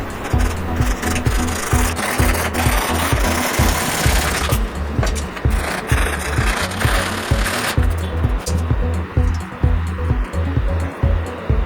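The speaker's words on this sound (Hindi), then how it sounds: "हम रैगमार से अच्छे से घिसकर प्लेन कर देंगे" Cut wooden cooler parts sanded by hand with sandpaper, continuous loud rhythmic rasping strokes up close, steady back-and-forth for the whole stretch with no talk.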